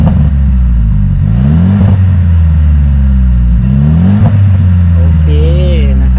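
A Mercedes-Benz W205 fitted with an Armytrix exhaust in silencer mode revs repeatedly, its engine note rising and falling in several loud, close blips over a steady idle rumble, with a brief faint voice near the end.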